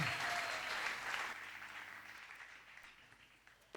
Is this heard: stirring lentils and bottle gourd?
no